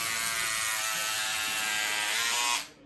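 Electric scissors slicing through two layers of fleece fabric, a steady, close, high-pitched motor buzz that holds evenly for over two seconds and then cuts off abruptly.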